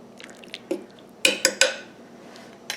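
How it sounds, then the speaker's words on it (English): Cream cheese is stirred into chicken in a crock pot, giving soft wet squishes followed by a quick run of sharp utensil clinks against the pot, with a few quieter taps trailing off. "I'm going to stir it up, try to break it up just a little bit."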